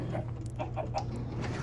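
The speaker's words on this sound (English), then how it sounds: "sorry about the chickens up above." Chickens clucking in the Minecraft video game, a run of short repeated clucks at moderate loudness above a steady low hum, with no talking.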